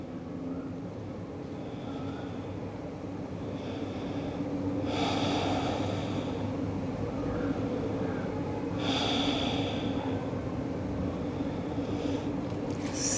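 Slow, deep breathing during a morning vinyasa yoga session, with two long audible inhale-exhale swells over a steady low background hum, close and soft.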